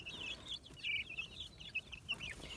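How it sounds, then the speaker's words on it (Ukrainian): White Leghorn chickens cluck and chatter in a busy coop, short high calls overlapping with scratchy background noise, no talking. "О, вже сім півнів"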